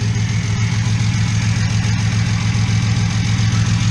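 Straight-piped BMW Z4 with headers and a freshly installed motor idles on jack stands at its first start-up, a loud, steady, low droning rumble with no letup and no voices.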